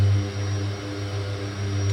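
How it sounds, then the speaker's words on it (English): Turboprop aircraft engine in a flight simulator, a strong steady drone with low harmonics whose note shifts slightly as the propeller setting is brought back, heard alone without talk. "You should hear the engine note change as we're adjusting those props down."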